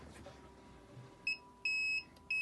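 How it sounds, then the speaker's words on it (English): A campervan control panel alarm warning that the water tank is empty sounds a series of clear electronic beeps: a short one, then a longer sustained tone, then another starting, standing out over a quiet room hum. "Now the water tank is empty, so it will sound an alarm"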